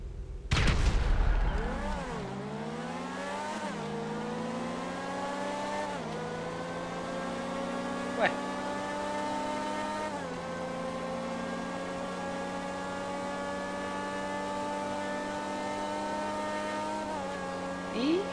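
Pfister 811 and Grotti X80 Proto supercars race in GTA V, their engines holding a loud, steady high-revving drone after an opening burst of noise, with gear-shift dips in pitch and a brief sharp crack midway.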